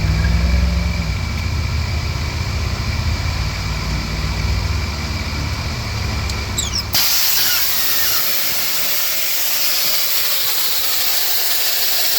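Central air conditioning compressor failing as the unit is switched on: a loud, steady broadband hiss and rumble, then a sudden shift around seven seconds into a harsher, brighter continuous hissing spray of escaping pressure that carries on to the end.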